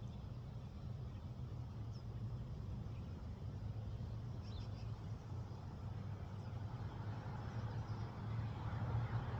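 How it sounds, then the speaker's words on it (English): Outdoor car traffic rumbles continuously near the Animas River, a steady low engine and tire drone with faint rushing water underneath and no talking. "There are a lot of car sounds"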